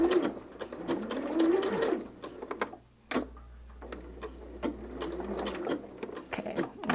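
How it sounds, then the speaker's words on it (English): A sewing machine runs along the fabric edge of a quilt border in quick mechanical bursts, with a short pause and a brief back-stitch reversal partway through, close and clear with no speech. "we're going to sew right to the edge of the fabric, and we're going to give it a little back stitch"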